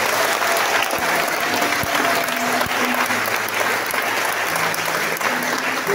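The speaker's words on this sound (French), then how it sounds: "On lui dit merci par les acclamations." A church congregation at a midday prayer session claps and acclaims in a dense, loud, continuous wash of applause, with crowd voices blended into the steady roar and a few sharp knocks.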